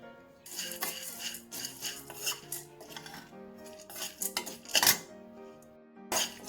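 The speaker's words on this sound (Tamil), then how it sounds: "அடுத்து பொட்டுக்கடலை போட்டுக்கலாம்" Roasted gram is dry-roasted in a pan while making Andhra-style lentil powder, with close, irregular scraping, rattling and clinking of the pan and stirring utensil.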